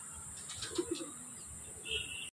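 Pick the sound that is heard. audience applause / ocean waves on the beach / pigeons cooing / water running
pigeons cooing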